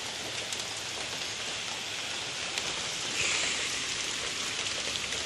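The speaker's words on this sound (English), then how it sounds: "It was raining a little bit harder." Rain falls steadily as a dense, even hiss of drops hitting surfaces on a rainy evening, swelling slightly louder partway through, with no voices.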